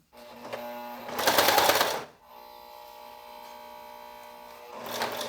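A domestic sewing machine slowly stitching vinyl plastic, a loud burst of rapid mechanical needle clatter, then a lower steady motor hum, with a second burst of stitching starting at the end.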